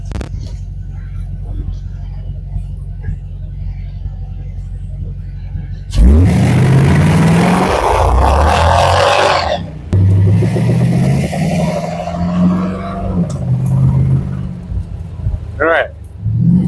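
A 1953 Chevy with an LS engine swap drives and shifts, its engine rumbling low and steady, then swelling into loud revving as it accelerates, with people talking over the car throughout.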